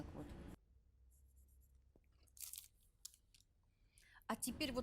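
A pencil or marker drawing lines on a paper sewing pattern, short scratchy strokes with quiet gaps between them, close and faint, with brief speech at the start.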